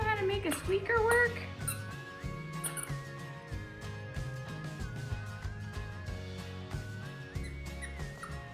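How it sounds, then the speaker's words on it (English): A dog's squeaky toy is squeezed repeatedly, giving a run of high, whiny squeaks up front that fades under background music, with voices talking nearby. "She can just sit there and squeak it, and she's so entertained."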